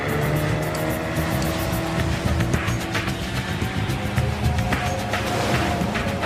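Speedboat engine roaring steadily at high revs during a police chase on the water, loud and continuous, with hull and spray noise layered over the drone.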